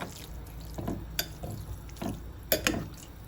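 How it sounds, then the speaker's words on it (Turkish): Sumac-infused water is poured over rice stuffing for dried eggplant and pepper dolma, making faint, soft splashes and drips in short bursts against quiet background. "Şöyle sumaklı suyumuzdan biraz daha döküp pirinçlerimi biraz daha açayım."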